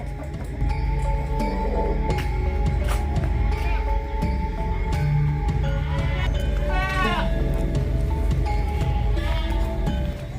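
Goats bleating repeatedly in a pen behind a house, several calls rising over a steady background hum and rustle, fairly close with no talking.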